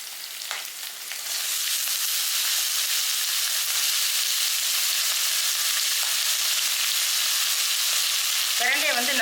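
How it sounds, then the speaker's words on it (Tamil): Pirandai, adamant creeper, hitting hot oil in a pan: a brief quiet start gives way to a loud, continuous, hissing sizzle that holds steady to the end, with a short clatter at the close. "இப்போ இந்த பிரண்டையை இதோடு சேர்த்து நல்லா வதக்கிக்கலாம்."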